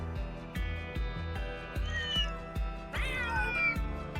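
A cat meows several times in Trails Through Daybreak 2, drawn-out plaintive calls over a steady beat of game music, clear and close.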